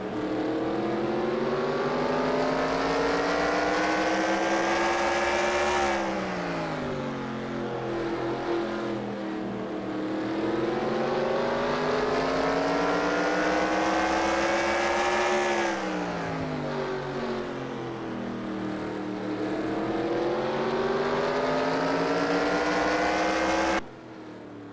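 Race car engines drone loudly around Martinsville Speedway in the iRacing simulator, pitch rising and falling in long repeating sweeps as the cars accelerate down the straights and ease off into the turns, with no voices over them.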